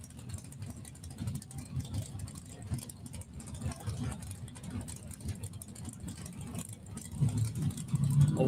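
A Ford Ranger pickup drag racer idles at the starting line of a drag strip, a steady low engine rumble that swells louder near the end, with crowd and track noise around it.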